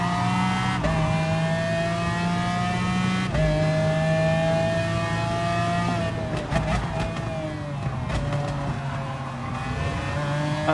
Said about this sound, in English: That high-pitched V12 sound.